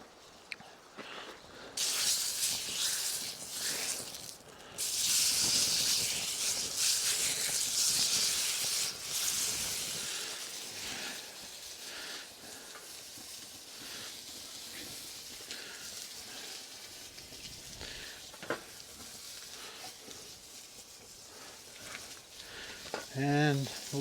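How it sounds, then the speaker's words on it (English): A steak dropped into a hot buttered pan at an outdoor camping spot in Colorado sizzles with a steady, broad hiss, loudest early on, while a person talks and wind is heard. "the pan is hot enough, so I'm going to go ahead and throw my steak in"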